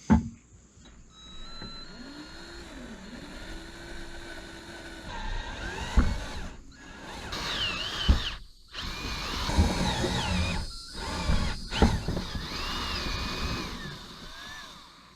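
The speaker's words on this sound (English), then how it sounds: "we got the 2 holes drilled in for the 2 positive negative wires coming in from the inside of the van" A power drill with a step bit bores holes through the body of a van for solar panel cable entry, whining in several bursts and pauses with changing pitch, close and fairly loud.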